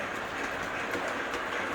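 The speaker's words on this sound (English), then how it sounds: "the train's going down to the station." An O gauge model train runs steadily along layout track, a soft continuous rolling whir with faint clicks, moderately quiet and heard alone.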